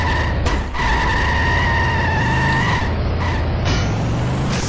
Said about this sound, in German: Vor allem das Auto ist sehr laut.